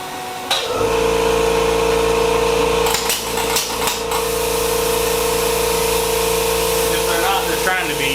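A malfunctioning plasma cutter runs with a loud, steady buzzing drone and harsh electrical crackling, broken by sharp irregular pops and bursts, close and continuous throughout.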